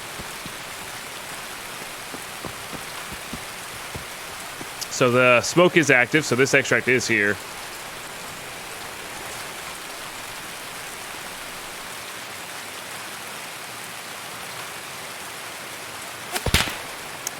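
Steady rain hisses throughout a match of the video game Escape from Tarkov, a constant soft wash of falling drops, while someone talks briefly partway through and a sharp sound cuts in near the end.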